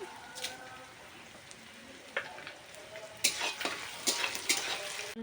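Chopped onions with half a spoon of whole cumin seeds fry toward light brown, a soft continuous sizzle broken by a few sharper scraping clicks of stirring that grow busier toward the end.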